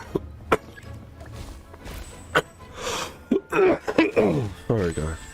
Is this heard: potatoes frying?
no